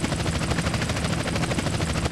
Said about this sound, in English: Chopper on our tail. We'll never shake them now.